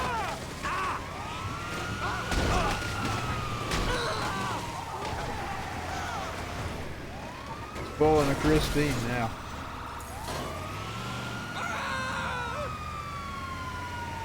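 A wailing ambulance siren in a video game rises and falls in long sweeps alongside engine and crash noises, while someone comments over the action.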